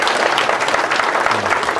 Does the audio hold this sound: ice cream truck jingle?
no